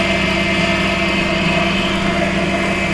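An HNL 13mm bench drill press runs at a steady 2800 RPM, giving a continuous, loud motor hum with a constant whirring tone and no talk.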